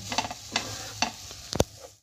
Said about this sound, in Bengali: এটা ততক্ষণ আমি ভাজবো যতক্ষণ না এই গাজরটার থেকে ঘিটা একটু আলাদা হচ্ছে